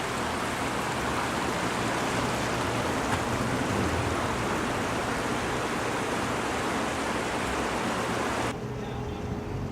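A creek flowing below a building in Ellicott City, Maryland, a loud, dense, continuous rush of water that stays steady for several seconds, then drops off abruptly near the end.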